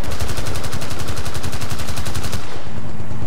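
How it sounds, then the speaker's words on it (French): Rapid automatic gunfire from the Battlefield Bad Company 2 Vietnam video game, a dense string of loud, evenly spaced shots that stops abruptly near the end, leaving quieter game ambience. "Je me fais tirer dessus par je sais pas quoi"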